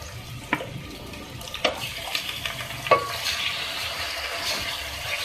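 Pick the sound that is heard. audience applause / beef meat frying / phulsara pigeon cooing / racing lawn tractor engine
beef meat frying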